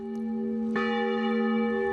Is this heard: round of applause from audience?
no